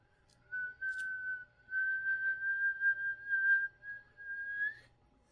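A whistle blown on a blade of grass held as a reed, one sustained steady shrill tone with slight wavering that starts, breaks briefly and resumes over about four seconds, close and fairly loud over faint low background hum.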